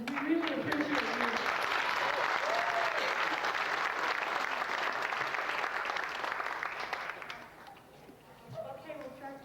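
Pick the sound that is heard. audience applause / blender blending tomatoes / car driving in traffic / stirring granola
audience applause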